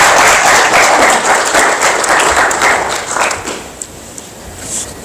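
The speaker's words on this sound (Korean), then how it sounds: "뜨거운 박수 부탁드리겠습니다." Steady applause from an audience at a patriotism award ceremony, many hands clapping at close range for several seconds before thinning out into a few scattered claps.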